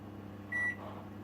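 A kitchen oven timer gives a single short, clear electronic beep over a steady low hum while it is being set for baking a spiced apple cake.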